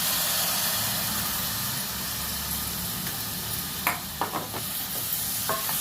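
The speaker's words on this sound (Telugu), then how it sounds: "ఇప్పుడు ఈ టమాటా ముక్కలు వేస్తున్నాను." Tomato pieces added to a hot pan for tomato bath give a steady frying hiss and sizzle, followed by several sharp clinks and scrapes of the spoon against the pan.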